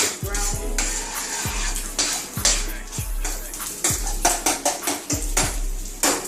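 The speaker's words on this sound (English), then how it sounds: "We got our ground turkey back here. We're going to do that brown." Ground turkey browns in a pan for a hearty cabbage soup, a steady sizzle running underneath while a utensil scrapes and taps against the pan in repeated strokes roughly every half second to second.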